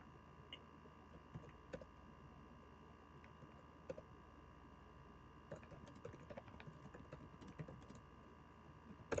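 Quiet, uneven keyboard typing on a computer while a web search is entered, soft scattered key clicks over a faint steady hum, no voices.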